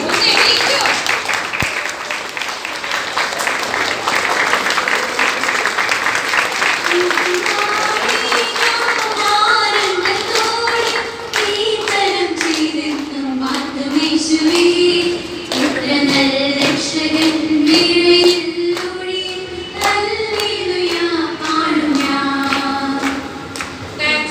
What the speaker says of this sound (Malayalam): എല്ലാവരും എണീറ്റ് അഭിനന്ദനം അർഹിക്കുന്ന ഇവർക്ക് ഒരു നല്ല കയ്യടി കൊടുക്കണ്ടേ?